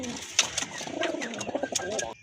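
Native domestic pigeons, including a male, coo softly in a loft, with several low throaty coos and brief fluttery calls overlapping through the short stretch.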